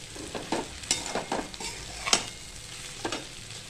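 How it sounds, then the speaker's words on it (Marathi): Dried wheat kurdai noodles stir-fried in plenty of oil in a pan, heard as a close, soft sizzle under repeated scraping stirs that come in irregular bursts, with no talking. "ही कुरडई टाकली की आपल्याला अशी चांगली परतून घ्यायची"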